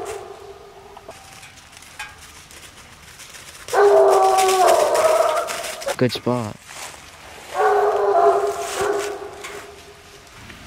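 Coonhounds, including a young pup, bay and howl in two long, loud bursts in the West Virginia woods at night, with a short bout of yipping between them and someone speaking briefly.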